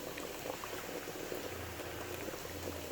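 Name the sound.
water boiling in pot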